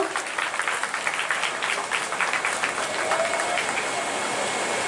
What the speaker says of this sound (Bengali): আপনারা একটা জোরে হাততালি দিন ওর জন্য